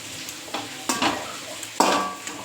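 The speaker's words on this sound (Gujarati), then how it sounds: "વગર તેલે જો કોઈ આમાં એક પણ ટીપું તેલ નથી," Spices are dry-roasted in a pan without any oil, stirred with a utensil that gives soft scraping rustles and a few sharper clinks against the metal, close and moderately quiet.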